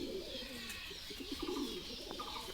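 A small racer pigeon coos in low, soft repeated phrases, close by and clear, with faint chirps and a steady background hiss.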